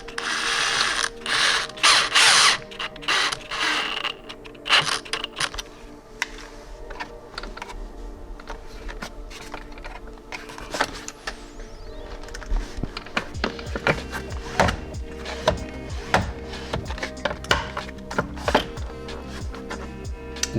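A Phillips screwdriver fastens a sun visor bracket on a Jeep Gladiator, producing close, rapid ratcheting clicks and small mechanical ticks in uneven bursts over about twenty seconds.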